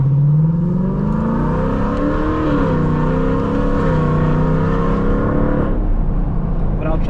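A Lexus LC 500 engine drones steadily from inside the car while driving, its deep hum rising and falling gently in pitch before easing off near the end.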